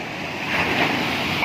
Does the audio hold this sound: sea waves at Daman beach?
yes